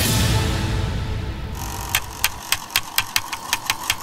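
A motorcycle engine, presented as a mystery sound in a quiz, runs steadily with a low rumble before a quick run of sharp, evenly spaced ticks and knocks sets in over a constant idle.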